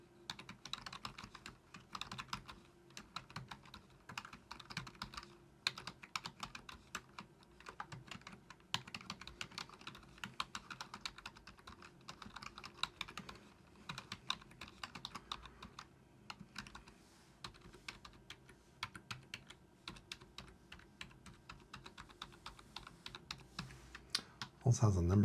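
Fingers type on a Keychron K2 HE keyboard, a continuous run of close, crisp key clicks in irregular bursts, ending with a louder thump.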